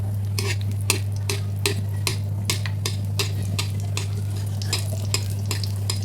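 Mustard oil frying over low heat while frozen food is stirred in a pan: steady close sizzle under a constant hum, broken by regular scraping strokes of a utensil against the pan, with no talk.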